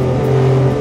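Porsche 962 Le Mans race car engine under throttle, a loud, close, steady droning rev heard from on board for under a second.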